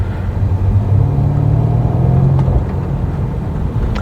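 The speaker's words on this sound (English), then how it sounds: "And you see, guys, the exhaust note and everything is on." A BMW M5 F90 in sport mode cruising on a road, its engine and exhaust a steady low rumble heard from inside the cabin, with a faint rise in pitch partway through and no talking.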